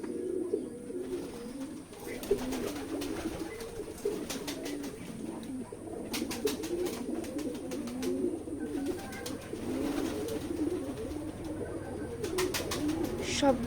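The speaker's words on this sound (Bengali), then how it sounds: "ওই দেখুন উপরে পোটার কবুতর।" Potar pigeons cooing softly and continuously, a low murmuring chorus of several birds nearby, with faint chirps and occasional background voices.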